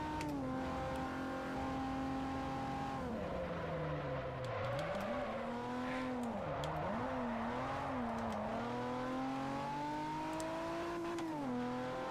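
A car engine in Forza Motorsport 4 drones steadily and loud throughout, its pitch dipping and rising as the revs fall and climb through gear changes, with no voices over it.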